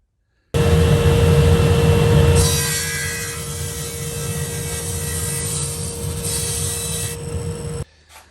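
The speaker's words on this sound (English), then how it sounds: "I'm going to cut the long side taper, angle first, and then I'll put the taper on that short side." A power saw cuts a taper angle along a wooden table piece, a loud steady whine that starts abruptly, grinds harder for the first two seconds, then runs smoother before stopping.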